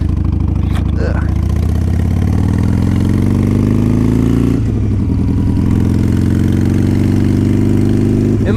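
A 2009 Harley-Davidson 883 Sportster engine rumbles loud and close in a deep lumpy idle, rising in revs and falling back before climbing again, with no talk over it.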